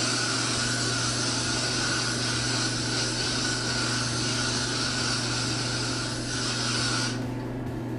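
Hairspray from an aerosol can hisses onto long hair in a steady, close, continuous spray lasting several seconds, then cuts off abruptly near the end.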